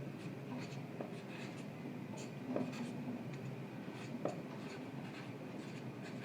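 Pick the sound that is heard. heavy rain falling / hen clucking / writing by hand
writing by hand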